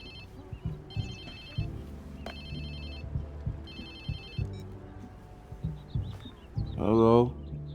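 Short repeated rings from a mobile phone in the Watch Dogs 2 video game, sounding in bursts over a dense in-game background of music and crowd noise, with a voice answering near the end.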